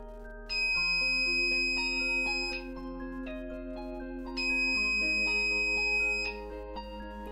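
Electronic buzzer in an IR sensor transistor circuit sounds in two bursts of shifting, melodic tones over a steady low hum, each lasting a couple of seconds.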